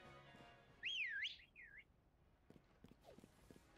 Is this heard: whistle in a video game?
yes